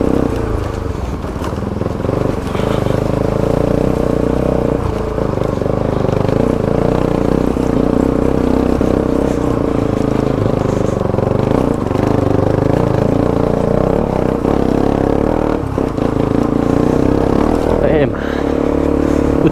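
A motorcycle rumbles steadily while riding slowly over a rough off-road track, the engine droning close throughout with small scrapes and knocks from the terrain and a voice talking over it.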